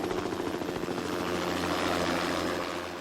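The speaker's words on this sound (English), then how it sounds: "Medevac's here with Steve." A medevac helicopter arrives with a loud, steady rotor thump and engine whine close by, continuous and unbroken, with no voices over it.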